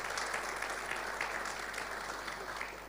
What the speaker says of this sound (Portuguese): dê um aplauso bem forte ao Senhor